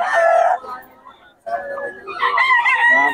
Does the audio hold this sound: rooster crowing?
yes